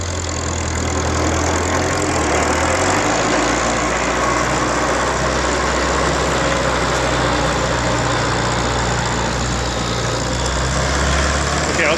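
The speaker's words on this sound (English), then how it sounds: "Okay, engaging the mower." A 1949 Farmall Cub tractor engine runs loud and close, its steady rumble shifting in pitch as the mower is engaged, then settling into a constant drone.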